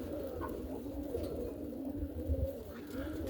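Pigeon cooing from a roller pigeon loft, a low soft coo repeating steadily at moderate distance against a constant low background hum, no voices.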